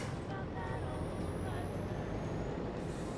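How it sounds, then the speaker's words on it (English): Whirring turbocharger and supercharger on a truck engine in Farming Simulator 25, a faint rising whine spooling up over a steady low engine rumble, sustained and fairly quiet. "Hear the like turbocharger and the supercharger whirling up."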